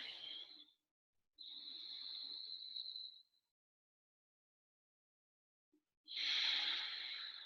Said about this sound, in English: Focus on the sound of the breathing in your throat.